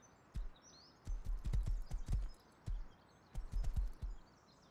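Horse ridden in the video game Rust: bursts of rapid hoof clip-clops at a gallop come and go in three runs, moderately close, with faint bird chirps in the background and no speech.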